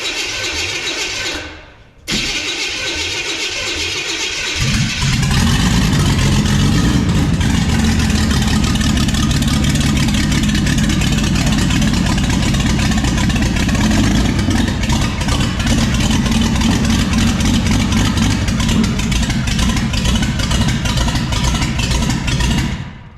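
A six-cylinder Impala convertible engine fitted with dual carburetors and a big cam runs loud and close, a steady rough idle that swells into a heavier, deeper rumble after a few seconds and holds.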